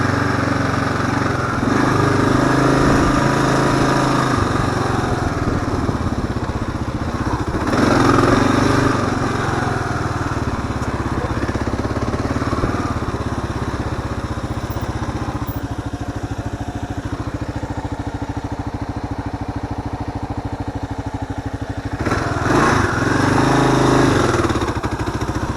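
Kawasaki KLR dual-sport motorcycle climbing uphill toward a summit in first gear, a steady mid-pitched engine drone with periodic revving swells, loud and close.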